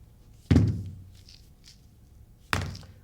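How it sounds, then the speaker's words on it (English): Five-pound hand weights are set down during a fitness workout, giving two dull, close thuds about two seconds apart against a quiet background. "Let's put those weights down."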